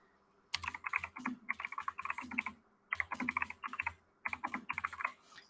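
Close keystrokes clatter on a computer keyboard in four quick bursts of rapid typing separated by short pauses, with no speech.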